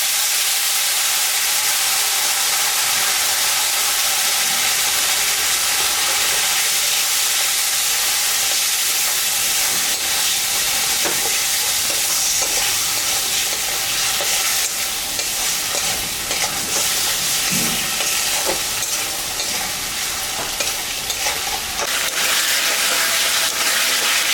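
Turmeric, four green chillies and a chilli, onion and ginger paste fry for a shol fish curry, giving a constant loud sizzle broken by scraping stirring strokes, with no voices.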